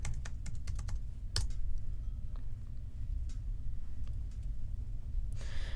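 Someone types a username and password on a computer keyboard, with quick bursts of close, crisp key clicks separated by short pauses, over a low room hum.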